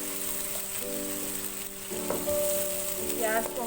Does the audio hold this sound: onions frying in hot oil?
yes